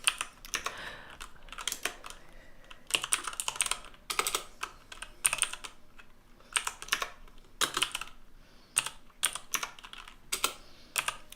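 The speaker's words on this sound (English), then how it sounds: "So I can type with this hand." One-handed typing on a computer keyboard: irregular bursts of close, crisp key clicks separated by short pauses, with no talking.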